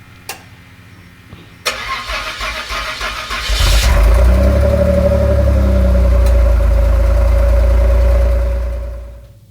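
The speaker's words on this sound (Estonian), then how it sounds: "paneme selle mootori hääle ka ikka garaažist" A car engine cranks and catches inside a garage, then settles into a loud, steady idle with a deep rumble that holds for several seconds before fading.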